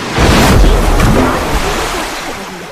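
Deep, murky water sound heard over a phone call, a loud continuous low surging slosh that swells at the start and slowly fades.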